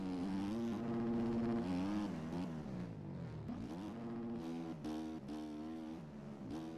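Dirt bike engine in the MX Bikes motocross racing game revs loudly and steadily, with the throttle repeatedly rolled off and snapped back on so the pitch dips and climbs in quick cycles, heard alone.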